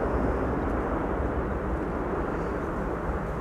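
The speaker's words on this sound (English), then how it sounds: "Reversers being applied there by the Delta" A Delta airliner landing at Schiphol deploys its thrust reversers, producing a steady, broad distant engine roar that holds evenly for a few seconds with no talk over it.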